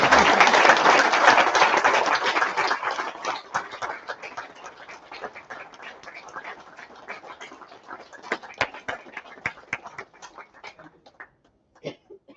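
Applause from an awards ceremony audience, starting as a loud, dense clapping that gradually thins out into scattered individual claps before fading near the end.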